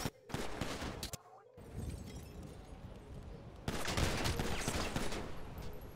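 Dense, continuous gunfire in a shootout outside a McDonald's, with rapid overlapping shots that carry on steadily for several seconds.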